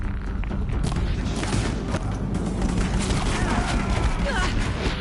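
The Deathbringer gun in Horizon Zero Dawn fires in a dense, rapid stream of blasts and thuds, loud and close amid a cluttered, booming battle.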